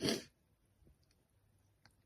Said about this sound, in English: I'm about to sneeze, wait.